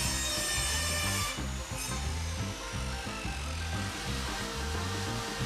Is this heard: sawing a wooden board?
yes